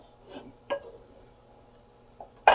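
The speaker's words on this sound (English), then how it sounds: "And then I mixed the rice one more time." Cooked rice being mixed in a pot gives a few sparse spoon scrapes and soft clinks against the metal, spaced out and fairly quiet, ending with one sharper knock.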